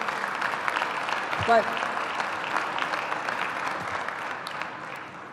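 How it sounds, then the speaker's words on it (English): Arena crowd applause for the New York Islanders hockey team at the UBS Arena ribbon cutting, a broad steady wash of clapping with a brief spoken word partway through. "So let's give a round of applause to our Islanders once again"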